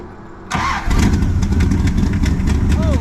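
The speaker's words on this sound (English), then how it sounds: "The exhaust leak is still there, but it's not as bad." A Mopar Magnum engine with an exhaust leak starts up and runs loudly, a steady rough rumble with raspy ticking from the leak, close to the microphone after a brief quieter moment.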